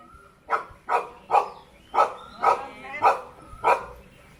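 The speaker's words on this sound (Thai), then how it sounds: "จุดที่น้องหมาเขาตัดสินใจขึ้นไปขู่เห่าผมนะครับ" A Thai dog perched on a table barks sharply at a stranger, seven evenly spaced loud close barks with short growling undertones between them.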